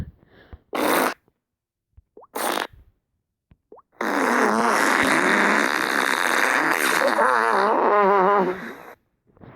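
Flatulence sounds: two short bursts, then a long loud rumbling fart lasting several seconds with fluttering changes in pitch near the end, heard alone and close.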